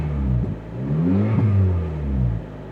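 A stick-shift Chevrolet Suburban engine revs nearby, loud deep rumbling exhaust rising and falling through a couple of quick throttle blips.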